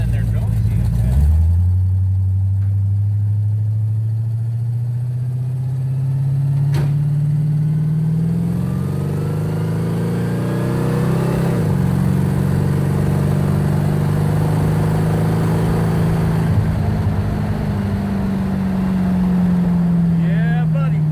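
A car engine fitted with a big cam and noisy lifters idles, then revs up into a sustained, rising drone and holds steady, loud and close, with people talking over it at times.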